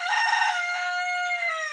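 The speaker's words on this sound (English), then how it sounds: "He knows he's a rooster. And it is the cutest thing to hear them practice." A young rooster practicing its crow lets out one long, strained cock-a-doodle-doo, held at a steady pitch for nearly two seconds, close and clear with no talking.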